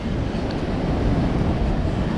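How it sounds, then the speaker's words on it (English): Strong wind buffets the microphone in a continuous, roaring rumble with no other sounds standing out. "It is so windy"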